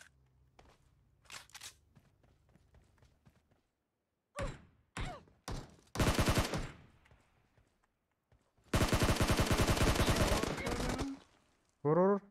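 Gunfire in PUBG Mobile comes as scattered single shots and then a long rapid automatic burst, loud and close, with faint voices and quiet gaps between the volleys.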